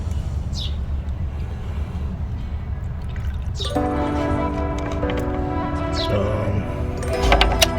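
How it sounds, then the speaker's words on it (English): Liquid plant nutrient pours from a container into a garden bucket holding tomatoes and cucumbers, a steady close trickle and splash with some dripping, set against low background rumble. "Take some of this nutrient and just pour it through here."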